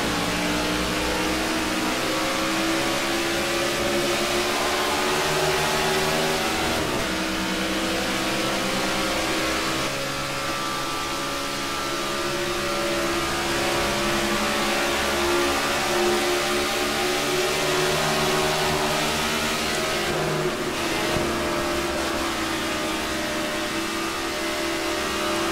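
NASCAR stock cars roar off the green flag at Texas Motor Speedway in NASCAR '14, a dense, steady pack of engine drone with rising revs and shifting pitch, loud and continuous throughout.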